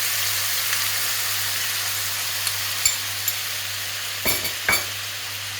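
A steady, loud sizzle of duck frying in a hot pan as soy sauce is added, with a few soft clunks of stirring near the end.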